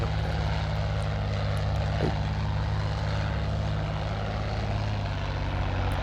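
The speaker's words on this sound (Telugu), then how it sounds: "స్మూత్ ల్యాండింగ్ అవుతుందా, హార్డ్ ల్యాండింగ్ అవుతుందా? చూస్తుంటే హార్డ్ ల్యాండింగ్ అవుతుంది." A propeller airplane engine drones loud and constant during a landing in the flight video game Wings of Steel, with a deep, unbroken roar and no pauses.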